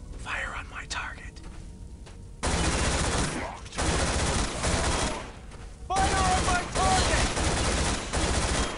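Rapid gunfire bursts from a squad firing on a target in the Stargate SG-1: The Alliance video game, loud sustained volleys in several blocks with brief pauses between, mixed with low game sounds and faint voices.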